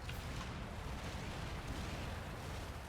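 Artillery fires in the VR strategy game Final Assault, making a low, continuous rumbling barrage that stays fairly quiet and even throughout, with no voices.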